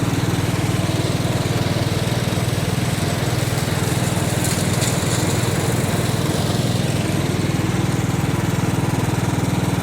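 A lawn mower engine runs steadily with worn, growly bearings, a continuous loud, rough drone close by with a brief rise in harsh grinding partway through.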